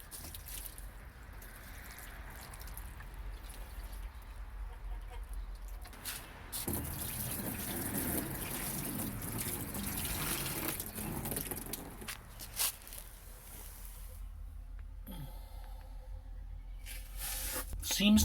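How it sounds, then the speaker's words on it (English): Water is poured into the cockpit of a cheap plastic kayak outdoors, a continuous splashing and trickling at moderate volume with people talking over it. "pour some water in the cockpit, and see if any of it gets back here into the storage compartment"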